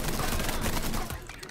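Rapid video-game gunfire from Mafia III rattles loudly in a dense burst, then trails off after about a second.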